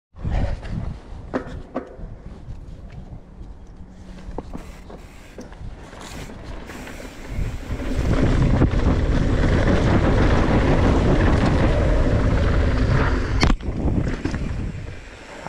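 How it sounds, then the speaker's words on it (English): Strong wind buffeting an outdoor microphone at a big step-up jump in the Bay Area, a steady low rumble that gusts louder and stays heavy through the second half, with no talk. "It's windy."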